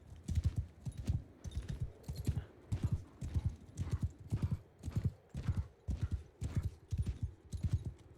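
Horse archers' hooves in Mount & Blade II: Bannerlord, a steady galloping clip-clop in repeated rhythmic bursts, close and clear, with no talk over it.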